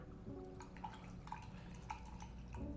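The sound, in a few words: coffee sloshing in Cyclone Carafe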